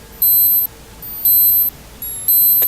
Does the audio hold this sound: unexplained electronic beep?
yes